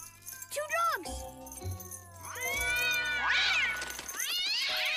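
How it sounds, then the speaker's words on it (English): Two cats yowl angrily at each other, a drawn-out rising and falling caterwaul with sliding wails and harsh snarls trading back and forth, loud and close, and no speech in the stretch. "Two cats!"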